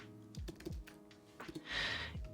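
Quick, soft keystrokes tap on a computer keyboard, a short irregular burst of clicks close to the mic in a quiet room, ending in a slightly louder rustling clatter.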